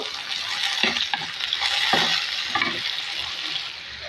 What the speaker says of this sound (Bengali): এখন আমি চিংড়ি মাছটা ঢেলে দিলাম চিংড়ি মাছটা একটু ভেজে নেব